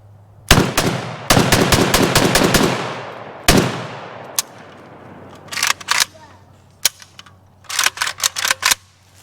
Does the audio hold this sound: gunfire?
yes